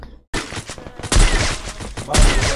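Gunfire in a video game: bursts of rapid, loud shots crackle in close succession, with two heavy impacts standing out amid the barrage after a brief silent gap at the start.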